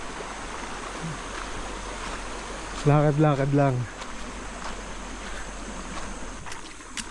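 A shallow river at a river crossing flows with a steady broadband wash that runs throughout. A voice speaks briefly over the water partway through.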